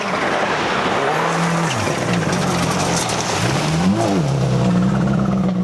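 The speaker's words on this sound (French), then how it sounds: "Mais Alexandre Moreau freine tard dans un coin serré et ses espoirs de podium s'évanouissent brusquement." A rally car brakes late into a tight corner at a rally in Petite Nation. Its engine roars loud and close, and the pitch swoops down and back up as the driver shifts.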